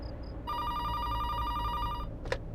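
A telephone rings in a steady electronic trill, one continuous ring burst lasting over a second and a half, fairly clear over a quiet room.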